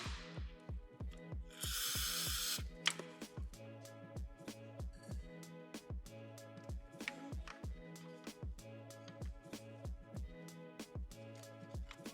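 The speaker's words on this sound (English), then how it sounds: "I'm gonna just spray some brake cleaner. Clean it up a bit." One short, sharp hiss of brake cleaner sprayed from an aerosol can near the start, during a shifter cable bushing install on an Acura RSX, set against steady rhythmic background music.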